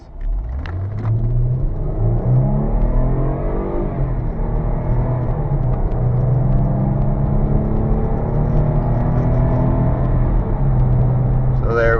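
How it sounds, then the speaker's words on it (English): A 2006 Mercedes ML350 SUV engine pulls hard from 0 to 60, its loud, close drone climbing in pitch through several gear shifts, dropping briefly at each change before rising again. "I'm just going to do like a little 0 to 60 pull here. I'm not going to quite floor it"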